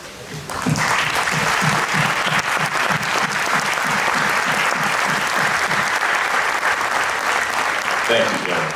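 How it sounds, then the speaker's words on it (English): Loud, sustained applause from a sizable crowd at a police academy graduation, starting suddenly and continuing evenly for several seconds with dense, rapid clapping. "if you could please stand for a round of applause"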